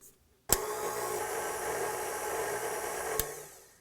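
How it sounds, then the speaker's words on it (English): A stand mixer on its lowest speed churns sesame cashew cookie dough with a steady, even motor whir that holds for several seconds after a sharp start, with a clunk near the end. "now we're just gonna mix it until it's combined on the lowest speed"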